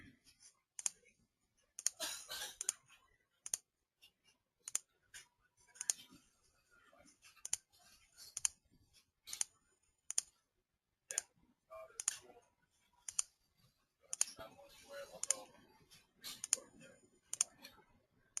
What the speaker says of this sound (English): just click down on the scroll button, and you'll be able to move it over